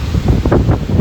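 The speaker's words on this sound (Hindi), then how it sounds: "भाई यहाँ पे बहुत तेज़ की हवा चलती है, 70 किलोमीटर पर घंटा" Strong wind at a beach during high tide, gusting around 70 km/h, roars and buffets the microphone in a loud, constant rumble with no voices.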